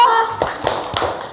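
A few sharp hand claps from children in an uneven rhythm, close by, under steady background talk.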